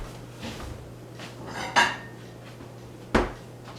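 Dishes and plates knock together in a home kitchen while baking a cake: a couple of soft clinks, then two sharp ceramic clacks spaced apart, close and fairly loud over a low hum.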